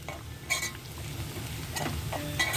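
Onion and eggplant fry quietly in a pan: a soft, continuous sizzle, broken by a few light clinks and stirring scrapes of a utensil against the pan.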